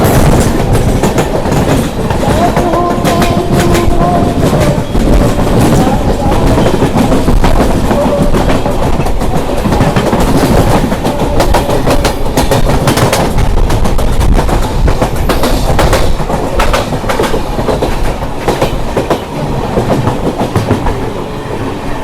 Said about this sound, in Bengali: আর একটা এক্সপ্রেস ট্রেন আসছে